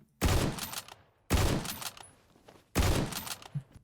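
Three loud, booming NTW 20mm anti-materiel rifle shots in the shooter game Phantom Forces, each a sharp blast followed by a long rolling echo, evenly spaced about a second apart.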